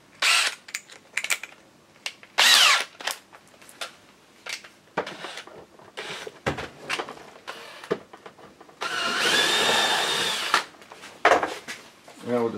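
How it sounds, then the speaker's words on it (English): A power drill whirs steadily for a couple of seconds, drilling a hole for a 1/4-inch screw in a deer antler drawer pull, surrounded by clicks, clatter and tool handling noises nearby. "We're also going to drill out this final hole because our final screw is going to be 1/4 inch."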